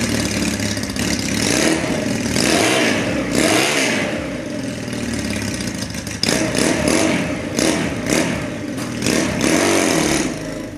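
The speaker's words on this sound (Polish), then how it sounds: "Krótkie, przelotowe wydechy ryczą jak wściekłe" A Junak M11 bobber motorcycle with short straight-through exhausts fitted with homemade dB killers runs loud and close, its engine rumbling and revving in a continuous throaty roar with rising and falling swells.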